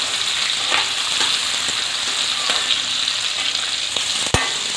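Vegetables frying in a kadai for kadai paneer give off a loud, dense, continuous sizzle close up, with a few faint stirring scrapes and one sharp clink near the end.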